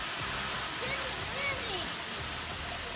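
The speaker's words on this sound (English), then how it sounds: "Hosing it down." Water from a hose splashes steadily onto a car wheel, washing red residue down a driveway; a continuous close hiss and spatter fills the recording with no speech.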